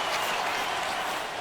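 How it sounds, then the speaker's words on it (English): A home arena crowd in NHL 2K10 roars with sustained cheering and applause after a goal, a broad, loud wash of noise with a commentator's voice mixed in. "The home crowd excited here to see their team take a 1-0 lead in the second period."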